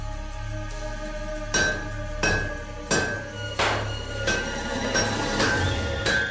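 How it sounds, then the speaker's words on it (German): A blacksmith's heavy hammer blows ring out one at a time on glowing hot metal being shaped into a flat disc, about every second, each with a bright clanging ring over a steady background hum. "Am Ende hämmert Roth allein mit einem speziellen Hammer die flache Scheibe zurecht."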